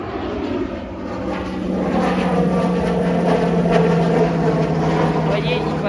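An aircraft flies low overhead, a steady loud drone with a sustained low tone that swells slightly and holds throughout, with faint background noise.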